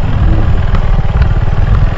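A motorcycle engine idles close by on arrival at a rest house, a steady low, throbbing rumble with a slight clatter that runs unbroken and fairly loud throughout.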